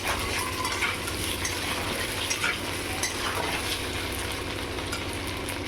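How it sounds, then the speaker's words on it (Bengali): Pre-fried potatoes stirred into a Bengali fish curry of bata fish with gaathi kochu in a pan, making a dense continuous sizzle with spatula scraping throughout and no voices. "এর মধ্যে আমি এই আলু আগে থেকে ভেজে রাখা আলুগুলো দিয়ে দেবো, দিয়ে আবারও একটু নেড়ে চেড়ে নেবো।"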